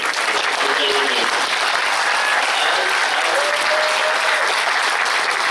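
A big audience at the opening of a conference plenary session on sustainable development goals claps loudly and continuously in a dense, even roar of applause that never lets up.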